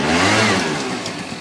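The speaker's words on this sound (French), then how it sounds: "tu appuies sur l'accélérateur et tu relâches" A scooter engine revs loud and close as the throttle is opened and released, the tone rising and then easing off slightly, with no talking over it.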